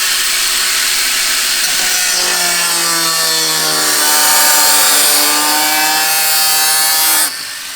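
A power saw cuts steadily through a race car part, a loud continuous rasping whine that shifts in pitch as the blade bites, then stops abruptly near the end.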